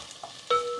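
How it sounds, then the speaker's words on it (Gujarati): Tomatoes stirred into sizzling cooked vegetables for a Gujarati sav tamata shak, a short spoon scrape and steady frying hiss rising sharply halfway through, close and alone. "ચલો તો ટમેટાને મિક્સ કરી દઈએ"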